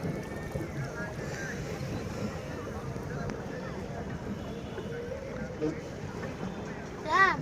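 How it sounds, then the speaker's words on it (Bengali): Pedal boat gliding across a park lake at a flower fair, a steady low water wash and wind rumble running throughout with faint splashes, while people talk softly nearby. "এই যে আমাদের বোট যাচ্ছে"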